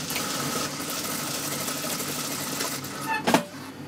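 Sewing machine stitching along a garment neckline, a steady dense whirring run throughout, with a short louder burst of stitching near the end.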